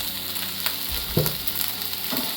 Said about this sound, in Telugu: కొంచెం గ్యాస్ సిమ్లో పెట్టుకుని కలిపేసుకుని ఇలాగ వేసుకుంటే